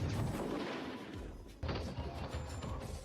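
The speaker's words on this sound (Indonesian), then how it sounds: "Setelah drone menembakkan serangkaian tembakan" Armed drones fire a series of gunshots in a film scene, heard as rumbling, muffled bursts of fire with a sharper heavy thump midway, fairly faint and distant-sounding.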